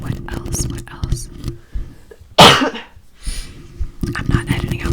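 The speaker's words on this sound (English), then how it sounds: "I'm not editing out my coughs." A single loud, close cough bursts out once midway, set among soft whispered talk before and after.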